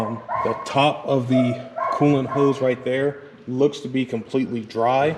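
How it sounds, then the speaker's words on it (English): Dogs bark and yip intermittently nearby while someone talks over them throughout, working on a 2V Mustang GT Bullitt engine with the intake off. "Sorry for the dogs barking."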